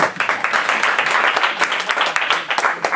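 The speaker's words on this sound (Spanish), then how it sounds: "un aplauso" An audience at a Spanish-language personal development session bursts into applause, brisk dense clapping close by and fairly loud throughout.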